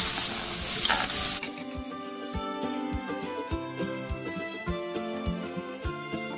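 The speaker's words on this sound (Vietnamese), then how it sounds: "Tiếp theo là mình sẽ phi tỏi. Tỏi này mình sẽ phi ít dầu thôi." Chopped garlic frying in a little oil in a pan gives a loud, bright sizzle for about a second before dropping away, after which quieter kitchen sounds and soft rhythmic background music carry on.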